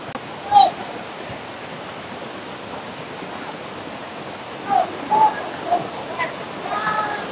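Rushing water of a strong current at Balanak Dam gives a continuous broad roar, with a few faint whoops and calls rising briefly over it.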